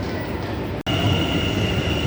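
An inner-city train of the Dutch rail network pulls in at a station, a steady loud rumble with rail noise and a high whine, briefly cut by a momentary dropout before continuing.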